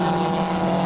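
BMW Compact Cup race car at Snetterton, brakes locking hard into a corner: a loud, steady engine drone with a continuous tyre-scrub edge across the short moment.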